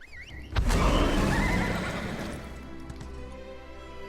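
In The Elder Scrolls Online, a horse whinnies loudly up close, a long shrill neigh that fades out, with faint hoof clops and soft ambient sound at the start.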